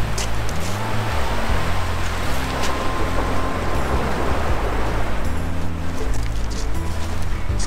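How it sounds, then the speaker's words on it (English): A large ocean wave rolls in on a rocky shore during land-based kingfish fishing, a steady loud wash of surf and churning water filling the whole stretch, with low rumble and no clear voices. "Oh, a big wave coming in"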